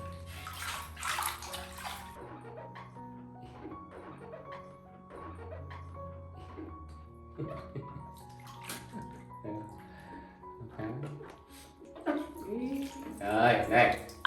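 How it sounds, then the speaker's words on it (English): Water pours and sloshes in a bathtub as a child is washed and rinsed with cool water, steady splashing throughout with a louder burst of pouring near the end, set against background music. "After scrubbing her clean and rinsing with cool water, Dad carefully dries Lily"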